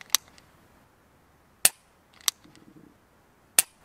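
A handgun's trigger is pulled in double action with the knuckle, producing three sharp, close metallic clicks spaced apart, with a faint mechanical rattle between the second and third and no talking.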